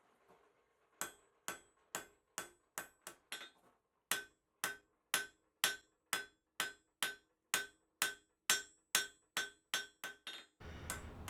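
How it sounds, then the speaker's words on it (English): A hammer forges a steel hook knife blank from tip to tang, with about twenty sharp, ringing metallic strikes in a steady, even rhythm, close and loud, and a short pause partway through. "I'm going to be forging from the tip of the knife back to the tang"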